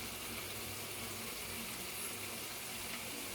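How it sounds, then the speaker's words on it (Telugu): Holy basil leaves are rinsed in water, giving a steady, close rush of running and splashing water that continues without pause and with no talking. "తులసాకులు వాటర్లో వేసి ఇలా నీట్గా కడిగేసుకున్నాక"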